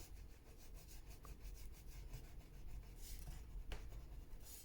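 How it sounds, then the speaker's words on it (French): An eraser rubs out pencil marks on paper during a craft project, a steady soft scratching and rubbing in quick repeated strokes, close and fairly quiet, with no talking. "Vous allez pouvoir venir gommer tout ça."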